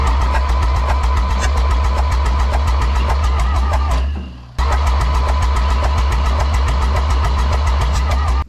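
A 1960 John Deere 1010 tractor engine cranked on its starter at 12 volts, a loud rapid rhythmic chugging that pauses briefly midway, then resumes at the same steady pace.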